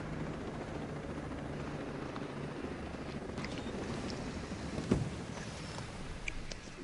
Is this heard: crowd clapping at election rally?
no